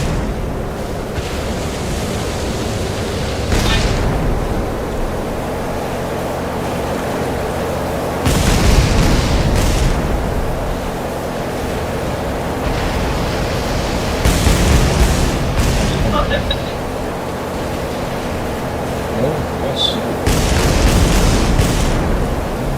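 Rumbling explosions and deep booms from a ship being blown apart and going down in the naval war game Battlestations, with bursts swelling every few seconds over a constant low roar of sea and battle.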